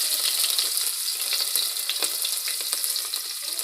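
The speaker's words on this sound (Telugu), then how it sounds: "అలాగే పచ్చిమిరపకాయలు, వేసుకొని కొంచెం గోల్డ్ కలర్ వచ్చేంత వరకు వేయించుకోవాలి" Sliced onions and green chillies fry in hot oil in a pan, giving a dense steady sizzle with faint crackles and an occasional scrape of stirring, close and even throughout with no voices.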